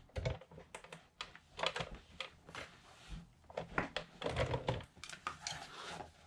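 A coil binding machine presses plastic coils onto a notebook, giving a run of close, clicky, irregular snaps and clacks over several seconds with no voices.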